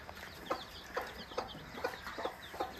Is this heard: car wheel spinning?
no